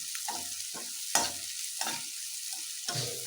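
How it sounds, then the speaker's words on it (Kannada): Capsicum and other vegetables fry for chicken manchurian, a soft steady sizzle punctuated by several distinct scraping stirs against the pan, fairly quiet and close, with no talking. "ಇದು ಎಲ್ಲದನ್ನು ಸ್ವಲ್ಪ ಚೆನ್ನಾಗಿ ಫ್ರೈ ಮಾಡ್ಕೊಳ್ಳೋಣ"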